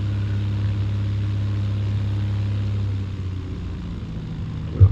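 Small airplane engine running at steady power during a pre-takeoff run-up on a runway 27 heading, a constant low droning hum that drops in pitch about three seconds in as power is reduced, ending with a brief thump.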